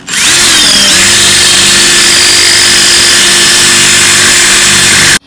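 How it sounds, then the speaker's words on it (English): A power drill bores into a ceramic pig figurine being repurposed as a planter, its motor whining loud and close in one continuous burst with a brief rise in pitch as it spins up, then stopping abruptly. "So I should be able to lean the drill sideways like this."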